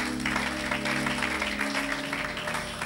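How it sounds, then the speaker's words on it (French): A church congregation claps and applauds steadily in a worship service, a dense sustained wash of hands with music or a held tone underneath, no speech. "Acclamons pour la gloire de notre Dieu."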